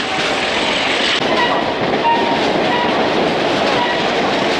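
An Adirondack Railroad train runs along the rails in upstate New York, giving a loud, continuous close-up rumble with rhythmic clickety-clack from the wheels and no voices.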